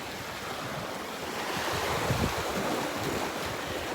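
Ocean surf and tidal current rushing through an inlet, a steady broadband wash with wind buffeting the microphone, swelling slightly near the middle and continuing without pause.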